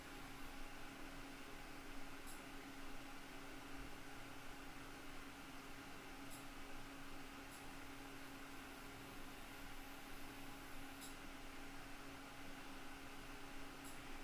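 Prawn pakoda pieces frying in hot oil give off a steady, continuous sizzling hiss with a few faint crackles. No one speaks.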